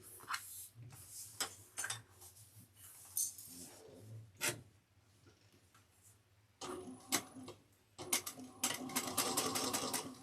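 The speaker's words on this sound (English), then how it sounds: "we're going to top stitch this 1/8 of an inch all the way around" Sewing machine top stitching a backpack an eighth of an inch from the edge, quiet bursts of rapid ticking stitches separated by pauses, ending in a longer steady run.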